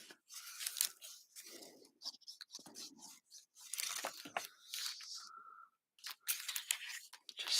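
Card paper is cut and handled up close, giving quiet, irregular snips, tearing scrapes and crinkles separated by short silences, with no talking.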